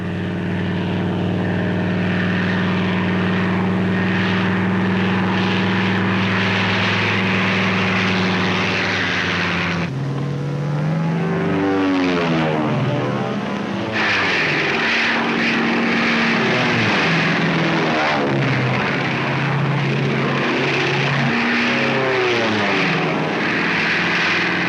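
Propeller-driven WWII P-40 fighter planes roar loudly and continuously, their engine drone shifting in pitch as aircraft pass and dive low over the ground, with a brief change in tone midway.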